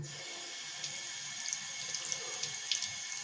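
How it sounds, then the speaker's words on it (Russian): Tap water runs steadily through a household jug-style water filter being cleaned, a continuous close hiss of flow with small splashy bursts and drips, heard alone without talk. "включаем воду."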